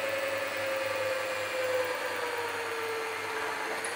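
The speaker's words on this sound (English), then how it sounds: "this drill is gonna poke through the other side of the terracotta pots in a second" A power drill fitted with a hole saw grinds steadily through a terracotta pot, a continuous high whining drone with a faint low hum beneath, close and even throughout with no voices.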